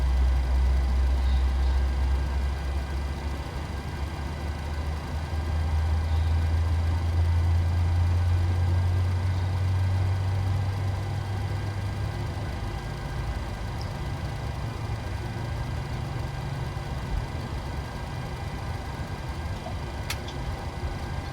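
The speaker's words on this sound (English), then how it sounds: "And there is engine number 1 started." PMDG 737-800 jet engine spooling up during engine start in Microsoft Flight Simulator 2020, a steady loud low rumble and whine with a deep drone that fades partway through, continuous with no talk.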